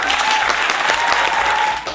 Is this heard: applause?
yes